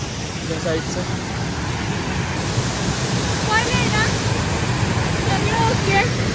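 A waterfall at Bhandardara rushes in a steady roar of broadband noise, with people talking over it.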